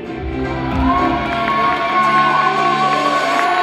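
An audience at a fitness competition cheers loudly, with shouts and whoops from the crowd sustained throughout and a tonal, music-like hum running underneath.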